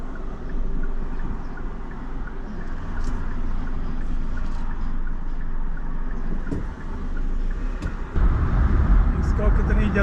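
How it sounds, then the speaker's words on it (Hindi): Heavy road traffic flows past a waiting driver, a continuous rumble of engines and tyres with a louder, closer vehicle surging by near the end. "अरे बाप रे, ट्रैफिक ही बड़ा आ गया लेफ्ट से।"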